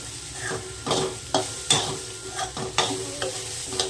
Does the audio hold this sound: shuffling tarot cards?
no